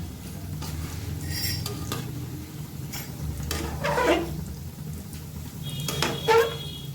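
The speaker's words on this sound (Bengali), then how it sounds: "ভালো করে উল্টে পাল্টে ভেজে নিলেই তৈরি আমাদের ভেজিটেবল চপ" Bengali-style vegetable chops frying in hot oil over a low gas flame, with a steady soft sizzle throughout and a few scrapes and clinks of a spatula or utensils turning them in the pan.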